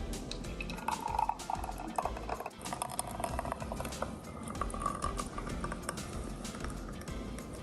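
A banana smoothie poured out of a blender into a glass, a faint, low liquid trickle with light clinks of the container, quiet and close throughout with no talking.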